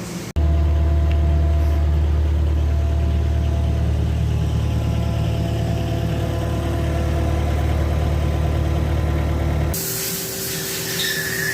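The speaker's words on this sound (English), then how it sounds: "Load it on the Bobcat, see if it fits mostly, and just get a good feel for it." Bobcat skid steer engine running steadily at idle, a loud continuous close drone that cuts out near the end, leaving quieter background.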